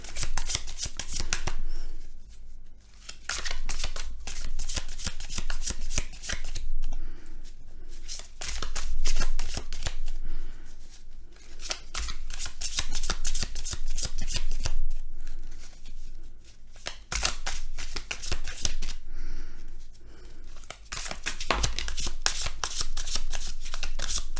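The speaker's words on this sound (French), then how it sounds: "Donc je vais tirer d'autres cartes pour accompagner votre message." Tarot cards are shuffled and drawn by hand in long riffling bursts, crisp and close, broken by short pauses over more than twenty seconds, with no one speaking.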